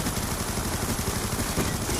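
Dense automatic gunfire from the video game Black Ops 2, a rapid sustained burst of shots, loud and continuous over the whole short stretch.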